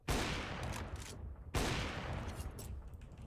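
Video game gunfire on a custom map, with two loud, close bursts of rapid shots, each cutting in sharply and trailing off, the second starting about one and a half seconds after the first.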